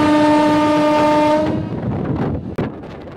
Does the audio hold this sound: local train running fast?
yes